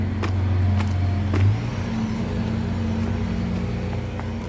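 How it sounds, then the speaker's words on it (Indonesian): A bus passes by on a street, its low engine rumble steady and fairly loud throughout, with a brief swell near the start before it fades slightly. "tadi ada bus lewat"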